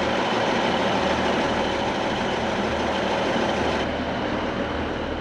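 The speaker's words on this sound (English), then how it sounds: "And I think this could be our train on the other side." A train at Corrour Station, the highest mainline station in the Scottish Highlands, gives a steady, loud rumbling roar that stays even throughout, with no voices.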